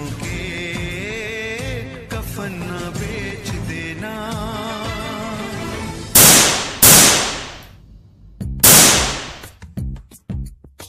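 After a stretch of droning music, several sharp, loud gunshots ring out one by one, each trailing off in a long echo, followed by fainter pops.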